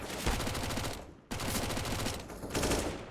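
Rapid bursts of Five-SeveN pistol fire in CS:GO crack in dense, overlapping volleys, loud and close, with a short gap before the shooting resumes.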